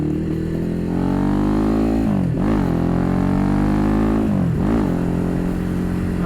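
A Ducati Hypermotard motorcycle pulling hard in third gear, its engine note rising steadily with two brief dips in pitch between surges, loud and close throughout.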